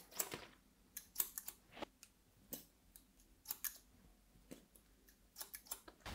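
Scissors snip through long hair during a haircut, a series of short, light, irregular clicks close by with quiet gaps between them.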